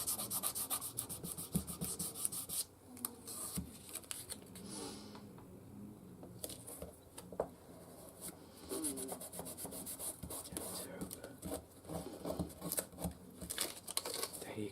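Paper being rubbed down by hand onto a birthday card, a dry scratchy brushing in quick repeated strokes, fairly close and quiet, with no talk.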